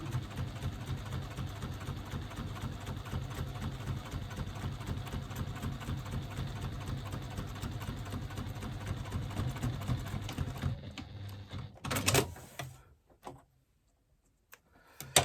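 A sewing machine top stitching a zipper runs in a steady, rapid stitching drone for about ten seconds, then stops with a few quieter clicks and handling sounds.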